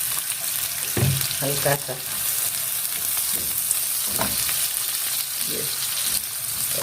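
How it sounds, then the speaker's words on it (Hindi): Onion frying in oil in a pan, a close, steady sizzle with occasional stirring clatter, while a person speaks briefly over it. "इसमें हम ये थोड़ा सा प्याज डालेंगे, फ्राई करेंगे"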